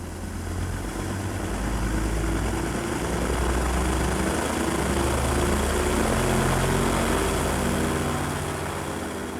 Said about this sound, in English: The twin chain-driven engines roaring, the frail fabric wings timidly lifting into the sky.